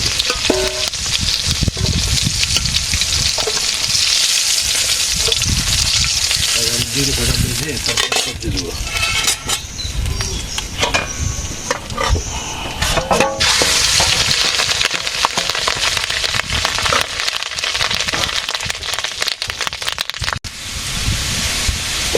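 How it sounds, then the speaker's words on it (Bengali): Potatoes frying in a pan in a village kitchen, a continuous loud sizzle with stirring and scraping noises breaking through at intervals, close up and with no talk. "আলু একটু বেজে নিলাম"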